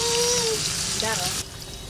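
Cumin, bay leaf and dried chili sizzle in hot oil while a fish curry is cooked, a steady close frying hiss that drops abruptly near the end, with a faint voice underneath.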